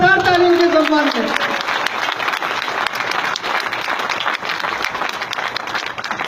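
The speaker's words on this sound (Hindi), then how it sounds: "मैं चाहूंगा जोरदार ताली उनके सम्मान में।" Loud, sustained applause from an audience at a celebration in Bhilwara, Rajasthan, a dense wash of clapping that follows a voice and continues steadily to the end.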